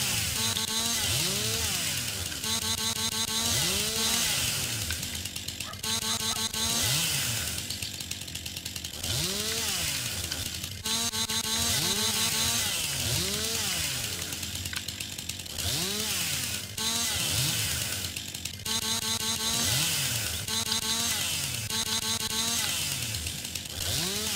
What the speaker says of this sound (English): we're just going to walk up here with our chainsaw and just cut all the limbs that we can off